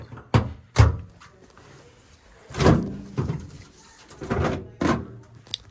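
The panel of a heating unit being opened during a service call, giving several separate thunks and clunks of plastic and metal parts with quiet gaps between them.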